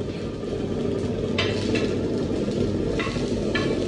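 Cooked rice reheating in a pan over a stove, a steady low frying hiss throughout, with a few brief scraping stirs of a spoon against the pan, no voices.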